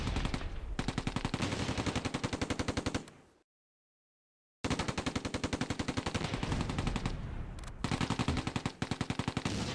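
Tank machine guns in the Close Combat WWII game rattle in sustained rapid bursts, loud and close, cutting out briefly to silence before the chattering fire resumes with sharp individual reports.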